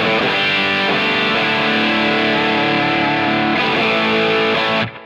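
A thick, heavily distorted electric guitar through a modelled Marshall Brit 2204 amp, like an early JCM 800, chugs out sustained crunchy chords, loud and close, then cuts off abruptly at the very end.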